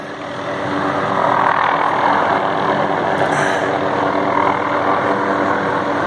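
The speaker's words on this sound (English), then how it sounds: "It's one of the helicopters dropping water." A loud, steady firefighting helicopter rotor drone fills the air overhead near a forest fire, continuous and close, with no talking.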